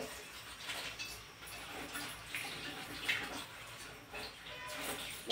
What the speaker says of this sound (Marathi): हा पाला आता मी स्वच्छ धुवून घेते नळाखाली.